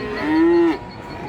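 A single Limousin feeder calf, about seven to eight months old, gives one loud, steady low moo lasting about half a second at a cattle market in Bojonegoro, close by with faint market murmur behind.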